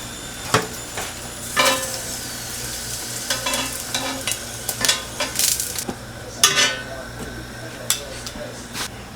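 Peppers blister in a hot pan with avocado oil, a steady sizzle punctuated by frequent scraping, clinking stirs of a utensil against the pan, close and moderately loud.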